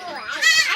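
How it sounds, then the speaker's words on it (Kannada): A baby goat gives one short, wavering bleat close by, rising in the middle and trailing off, heard alone in under a second. "ಆಡು ಮರಿ ಅದು."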